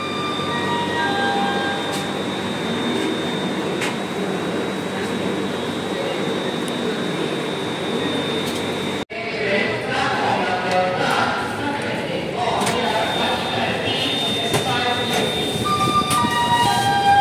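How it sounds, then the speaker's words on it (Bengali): Duronto Express train to Howrah pulling away from platform 1, a steady loud rumble of the moving carriages with a brief dip midway, no talk. "আমাদের ট্রেন প্ল্যাটফর্ম নাম্বার 1 থেকে ছেড়ে দিল"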